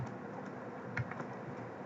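Soft, quiet keystrokes tap on a computer keyboard in a quick, irregular patter, alone and faint.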